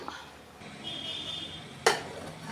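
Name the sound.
opening lid and stirring fish in cooking pot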